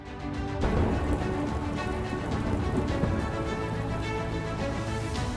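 Heavy, continuous unseasonal rain drumming on a surface in Mundra, Kutch, Gujarat, a dense steady patter with no voices, loud and close.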